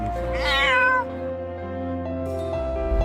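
A rescued kitten, just pulled out of the sea after nearly drowning, gives one clear, wavering meow up close, followed by steady low background noise.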